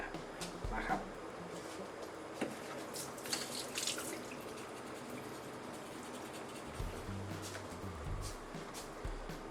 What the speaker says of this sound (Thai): เอาไปล้างก่อน ล้างแล้วใช้มีดขูดนะพยายามให้เนื้อขาวๆมันออกมา